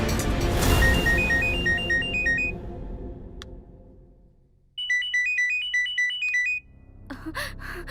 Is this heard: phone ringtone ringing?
yes